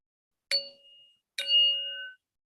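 Two separate strikes of a singing bell at a community heritage-month gathering, each a bright ding that rings on with a long, fading tone in otherwise silent surroundings.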